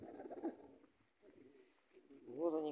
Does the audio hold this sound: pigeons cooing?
yes